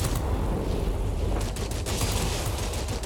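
Machine guns firing from an Imperial Japanese Army Zero fighter in World of Warplanes, a loud, rapid continuous rattle over a heavy engine drone, with no talk.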